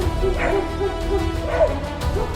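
German shepherds barking and yipping in a rapid, repeated run of fairly loud barks that drive off a mountain lion near their owner's property, with a steady background hum underneath.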